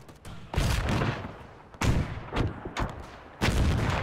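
Gunfire and explosive blasts in the WW1 strategy game Between Empires, several heavy booming volleys at irregular intervals with crackling rifle fire between them, loud and close, no talking.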